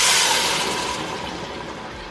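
Warm broth for Mexican meatball soup being poured through a strainer onto potatoes, a steady, close rushing splash of liquid that slowly eases off.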